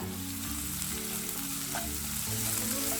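Chopped onions with salt frying in a pan give off a steady, dense sizzle, with a low hum running underneath for the whole stretch.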